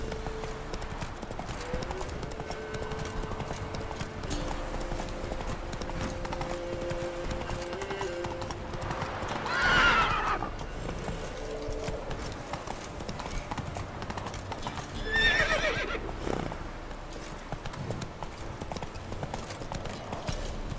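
The horse Roach gallops in The Witcher 3, with steady clip-clop hoofbeats running throughout under game ambience and a few brief louder swells of movement.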